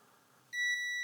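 A multimeter in diode-test mode gives a single clear, steady electronic beep on a Schottky diode in a Sony BDP-S490 Blu-ray player. The tone starts abruptly midway, holds for about half a second and cuts off, after a quiet lead-in.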